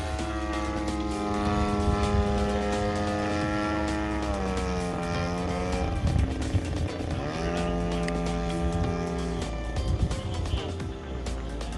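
A kit-built Extra 300X RC model airplane flies aerobatics, its engine whining with sweeping pitch changes as it climbs, dives and passes, loud and continuous throughout.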